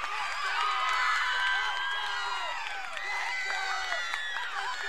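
A crowd cheers and roars steadily throughout at a state championship volleyball match, the noise loud and sustained.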